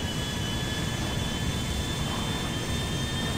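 A jet aircraft engine in a flight video game, one engine failing, gives a steady, loud roar with a thin whine, unbroken and with no voices over it.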